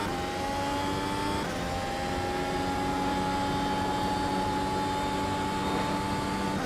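A hybrid grand prix race car in iRacing at the Nürburgring Grand-Prix-Strecke, its engine held at full throttle in a loud, steady high-pitched drone with a brief dip early on, heard alone.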